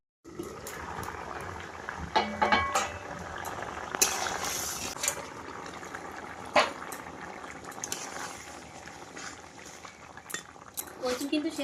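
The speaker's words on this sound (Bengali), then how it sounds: "এবার কিছুক্ষণ বন্ধুরা ঢেকে রাখবো যাতে তাড়াতাড়ি কচুগুলো সেদ্ধ হয়ে যায়।" A covered pot of taro bubbles on the stove, with steady boiling and a faint liquid hiss. Occasional soft metallic clinks from the lid or utensils are heard, and no one speaks.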